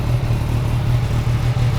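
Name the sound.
MV Agusta F3 675cc three-cylinder motorcycle engine revving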